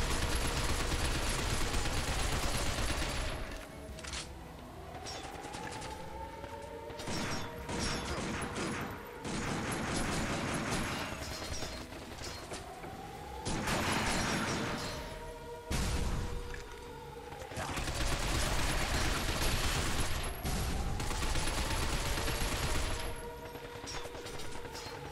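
Bursts of rapid automatic gunfire and impacts fill a third-person shooter firefight in Binary Domain, loud repeated volleys broken by short pauses, with mechanical clatter and crashes between them.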